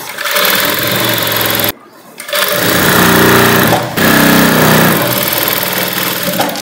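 A sewing machine stitches the crepe lining of a long gown in loud, close, continuous whirring runs, with one clear pause and a brief dip before stitching resumes.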